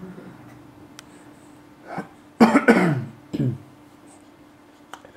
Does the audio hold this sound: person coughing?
yes